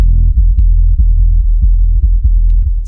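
A loud, low buzzing comb-filter tone from the Thorn synth plugin pulses rhythmically, with resonant hollow harmonics and a steady throbbing beat about every half second.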